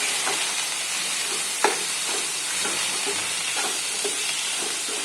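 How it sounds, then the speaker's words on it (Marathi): Vegetables sautéing in oil with a pinch of salt give a steady close sizzle, with light stirring clinks and scrapes scattered throughout. "व्यवस्थित असं परतून घेणार आहोत थोडा वेळ"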